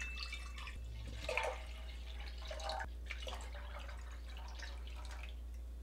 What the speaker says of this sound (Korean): 우유를 냄비에 넣어줍니다.